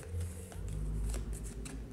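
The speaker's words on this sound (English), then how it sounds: "we shuffle the Warpstone back in" Cards from the Warhammer Quest adventure card game dungeon deck being shuffled, a close, quick riffling and sliding of cards with soft flicks, lasting a couple of seconds.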